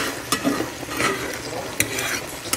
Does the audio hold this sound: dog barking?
no